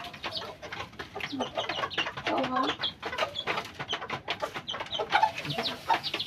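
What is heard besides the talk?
chickens clucking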